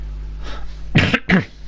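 Someone clears their throat twice in quick succession, close and fairly loud, over a low background hum during live football commentary.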